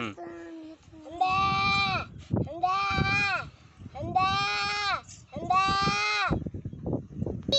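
A girl vocally imitates a buffalo, giving four long, loud, harmonic bleating calls in a steady series, each followed by a brief pause.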